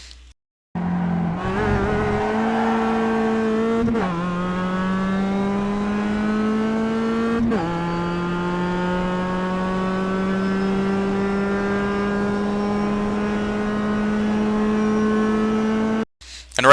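A Mazda MX-5 race car engine in the iRacing simulator at Laguna Seca drones loudly and continuously, its pitch climbing steadily through the gears with brief drops at each upshift.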